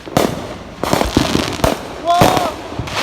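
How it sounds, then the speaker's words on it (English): Fourth of July fireworks popping and cracking in a quick irregular series of sharp bangs, fairly close, with people talking and exclaiming over them. "okay, fireworks."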